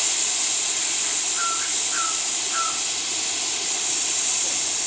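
A pressure cooker cooking raw mango releases a strong, continuous hiss of escaping steam, with a few faint short squeaks over the steady rush.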